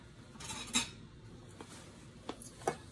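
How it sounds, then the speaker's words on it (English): Chocolate chip cookie ingredients being mixed in a bowl, with a few soft utensil clinks and taps against the bowl spaced irregularly over a quiet background, no speech. "And then I'm just going to mix that up"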